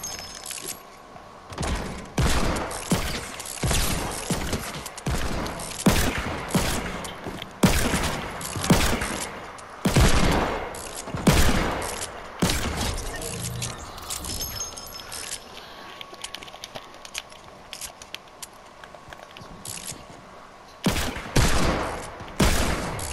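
Repeated gunfire in a Fortnite match, loud, sharp shots and rapid bursts recurring in clusters across the whole stretch, close and dominant with little else beneath.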